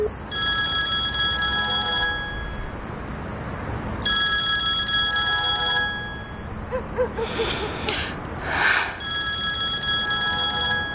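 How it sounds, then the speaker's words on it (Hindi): A telephone bell rings in repeated bursts, loud and close, with short pauses between rings and some faint background clatter. "किसी का फोन आ रहा है"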